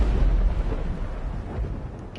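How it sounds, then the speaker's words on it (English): Anti-aircraft guns firing in the video game Mass Effect Legendary Edition, heard as a heavy, continuous low rumble of distant booms rolling together without clear separate shots. "Guess those are the AA guns."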